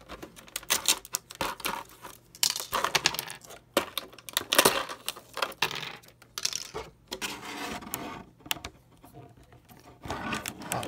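Action figure accessories being pulled from plastic packaging, with crinkling, rubbing and scraping of plastic in irregular close bursts, loud and continuous.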